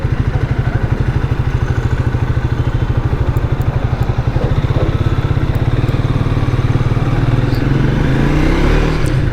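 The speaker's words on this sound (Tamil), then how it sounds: "இனிஷியலு ஆக்சிலேட்டரை கொடுத்தா வண்டி இழுத்துக்கிட்டு போகுதுங்க" A Triumph Thruxton 400 motorcycle engine pulls hard under acceleration, its loud, close, rapid throb continuous throughout with the pitch rising near the end.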